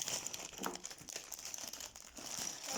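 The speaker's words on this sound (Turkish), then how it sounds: "İlk olarak birinci paketi boşaltıyorum." Plastic bag of Lego Technic pieces for a drag car set being emptied, giving steady close crinkling and rustling with small clatters of parts throughout.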